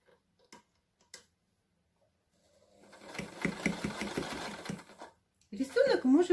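A sewing machine stitching a fabric napkin rug from the centre outward: faint, quiet ticks, then a few seconds of rapid rhythmic stitching at close range, then someone speaking.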